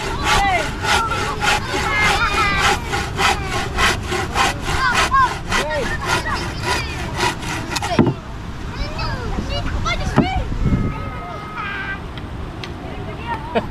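A hand saw cuts through wood for a chicken coop, a fast, steady back-and-forth rasp of strokes that later slows and softens, with people talking nearby throughout.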